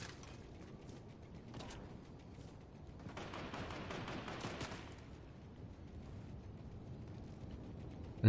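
Distant gunfire in Fortnite, faint bursts of shots and a longer rattling volley in the middle, quiet and far off, with no talking.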